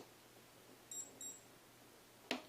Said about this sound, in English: So you get essentially three sets of 2 beeps.